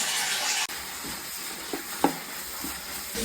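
Onions, spices, ginger and garlic sautéing in a pan for a beef curry, a steady soft sizzle with a few light stirring clinks, close and without talk.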